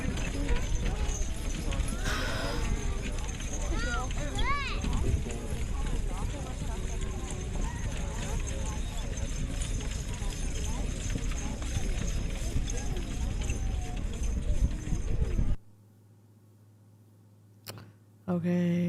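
Percheron mares' hooves clop steadily on the ground amid a busy crowd murmur and a voice talking over a loudspeaker, then things suddenly go quiet.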